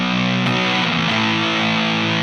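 An electric guitar runs through a Seeker Lineage Supa Fuzz pedal with the guitar volume rolled down, giving a thick, sustained fuzzy chord with a couple of picked attacks, loud and steady with no talk.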